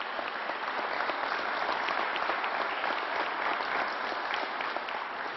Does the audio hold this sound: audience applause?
yes